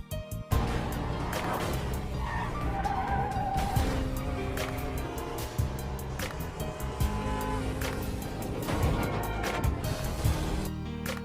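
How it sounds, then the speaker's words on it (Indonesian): Cars skid and screech through chaotic traffic during a chase, with repeated tire squeals and engine roars ending in crashes. The sound is loud, dense and continuous, with sharp bursts throughout. "Hal tersebut membuat kacau lalu lintas hingga terjadi beberapa kecelakaan"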